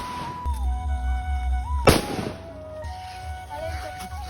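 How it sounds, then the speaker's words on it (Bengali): A single sharp firecracker blast from a Diwali celebration bursts loudly once amid a steady low background hum, followed by a fading tail of noise. "আর আমরা যে বোমটা ফাটাচ্ছি ওটা জলের মধ্যেও ফাটে।"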